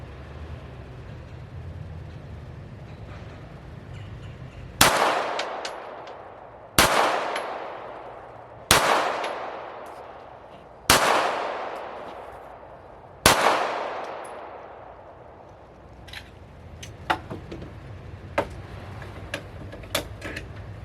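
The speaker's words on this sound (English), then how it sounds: "for the fourth one, we'll shoot the right shoulder of the target" Five loud, evenly spaced shots from an FN FNS9 pistol fired at a target, each with a short ringing tail, followed by fainter clicks and handling noises.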